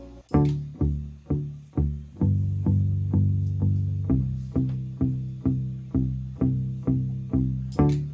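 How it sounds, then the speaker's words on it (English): A deep, bass-like plucked guitar line, played with an octave pedal through a looper, repeats in a steady looping rhythm, each low note ringing and decaying before the next. "I'm going to be using a looper to play a bass line"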